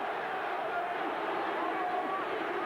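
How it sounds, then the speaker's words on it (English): A packed rugby stadium crowd roars during a 1994 Australia versus New Zealand Bledisloe Cup match, a dense continuous wash of cheering with a commentator's voice over it. "The crowd's going wild."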